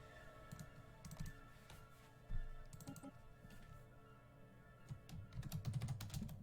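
A computer keyboard is typed on in uneven bursts of clicking keystrokes, close and moderately loud, with a few sharper key hits among them.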